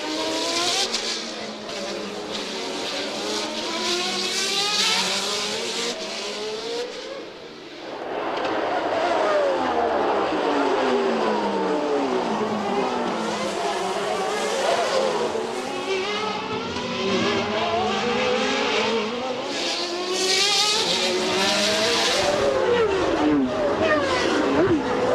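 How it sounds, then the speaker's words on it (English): 1990 US Grand Prix Formula One cars scream past, including Prost's Ferrari. Loud high-revving engines rise and fall in pitch as each car passes, one after another, with a brief lull partway through. "There is Prost in the Ferrari"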